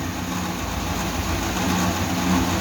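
A 1941 Dodge Hemi truck engine runs steadily with its clutch fan spinning, a continuous close rumble and broad whooshing rush of air that swells slightly toward the end.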